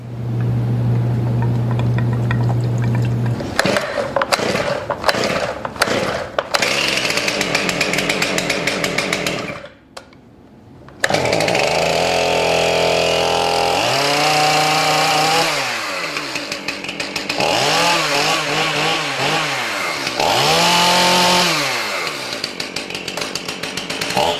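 A serviced Stihl MS 271 Farm Boss chainsaw gets several quick starter-cord pulls, then fires and runs loudly up close. After a brief stall it idles and revs up and down in repeated surges, with no talking.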